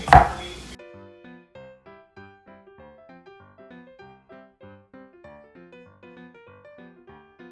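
Sliced peppers cut into rings on a cutting board: one loud knock opens, then a steady run of evenly spaced knife taps, close and moderately loud, with no talking.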